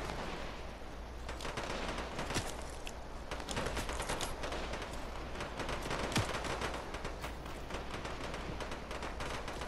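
Assault rifle gunfire in Fortnite Chapter 2 Season 5, scattered sharp shots and short bursts crackling over a steady background din, fairly distant and moderately loud with no talking.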